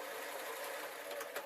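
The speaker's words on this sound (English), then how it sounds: "I'm going to place it under the sewing machine, and away I go." A sewing machine stitches polycotton fabric for a rice-filled heat wrap, giving a steady, fast mechanical whir that runs unbroken for the whole moment, quiet and close.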